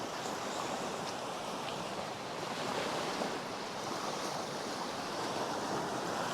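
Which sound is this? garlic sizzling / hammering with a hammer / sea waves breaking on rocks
sea waves breaking on rocks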